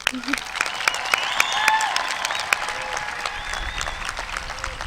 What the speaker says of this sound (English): I would like to give a big round of applause to the graduating class of 2018.